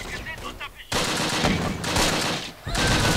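Gunfire from the WWII strategy game Close Combat: Wacht Am Rhein comes as a dense, loud burst of automatic shooting, preceded by a brief quieter stretch with a voice in it.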